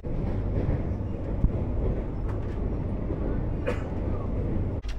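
Low, steady rumble of a premium express train heard from inside the carriage, a continuous drone with faint knocks and no clear talk.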